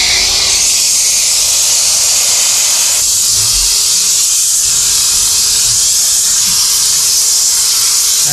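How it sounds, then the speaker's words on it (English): A steam cleaner runs on the interior of a 2006 Toyota Tacoma during a full detail, giving a steady, loud, continuous hiss that holds for the whole stretch, with no voices. "Now I'll just steam this clean."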